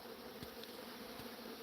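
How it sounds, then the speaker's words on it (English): Bees buzzing steadily at close range through a short stretch, a constant low hum with a few louder passes, no voices. "Bees."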